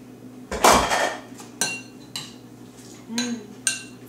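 Ingredients are mixed in a bowl with kitchen utensils, heard as a handful of close, distinct clinks and scrapes of metal on dishware, with brief quiet gaps in between.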